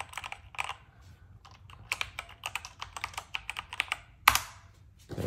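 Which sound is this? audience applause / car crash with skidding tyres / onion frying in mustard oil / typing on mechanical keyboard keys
typing on mechanical keyboard keys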